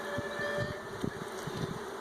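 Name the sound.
bees buzzing at swarm trap hive frames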